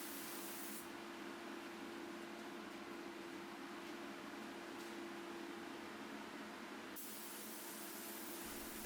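Gemini vinyl sealer and lacquer undercoater sprays onto hotel and office furniture being refinished, making a steady hissing spray that stops briefly near one second and again near seven seconds over a constant low hum.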